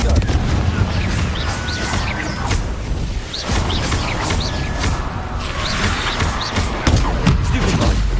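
Fiery spell blasts boom repeatedly in a Hogwarts Legacy battle, dense thuds and bursts layered over constant combat noise and a shouting voice.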